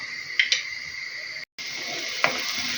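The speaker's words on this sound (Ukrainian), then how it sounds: "засипаю сюди цибулю. обсмажується спочатку" Onions sizzle steadily in a hot frying pan, a bright continuous hiss with a couple of soft stirring clicks and a brief cut in the middle.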